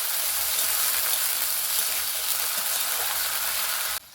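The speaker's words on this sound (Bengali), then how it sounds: "আলুটাকে আমি হালকা লাল করে ভাজবো।" Potatoes frying in hot oil give off a steady, close sizzle that holds throughout and then drops away abruptly near the end.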